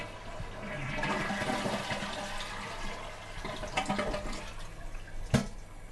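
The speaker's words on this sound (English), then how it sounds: "hold the lever down for several seconds until you hear the flushing stop, like this" A low-flow toilet in an Earthship flushes with the lever held down, a steady rush of water that swirls and gurgles, ending in a sharper clunk near the close.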